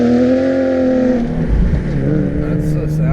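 A supercharged Nissan 370Z with 430 wheel horsepower revs loudly up close, its engine pitch climbing and then settling into a rough rumble, with people talking alongside.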